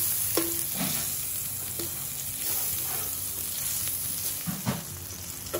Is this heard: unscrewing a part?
no